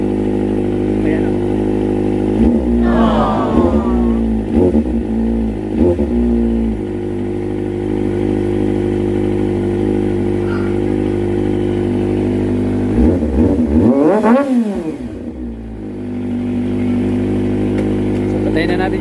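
A Kawasaki ZX25R motorcycle, just fitted with a cleaned or new spark plug and air filter, idles up close and revs sharply several times as the throttle is twisted, with a brief spoken word over the engine.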